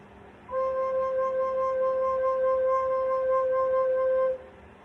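A steady, pure low C on a soprano recorder, held for about four seconds, clear and close, with a soft breathy edge and no talking.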